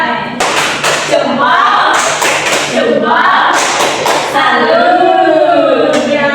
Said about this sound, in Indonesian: Kita kasih tepuk apresiasi dengan tepuk pucuk ya.